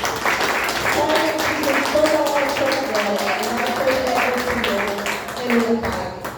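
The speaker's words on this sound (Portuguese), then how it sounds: "Aplauda o Senhor Jesus." Church congregation at a Good Friday service claps in a steady, moderately loud wash of applause, with voices singing or speaking over it throughout.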